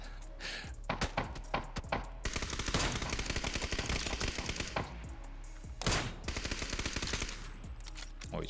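Rapid bursts of gunfire in the video game PUBG, automatic volleys mixed with single sharp shots, loud and dense throughout with brief pauses between.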